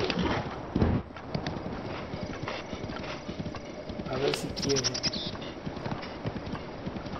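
A horse's hooves clip-clop steadily in a rhythmic trot in the video game The Legend of Zelda: Breath of the Wild, close and crisp, while someone speaks briefly over them.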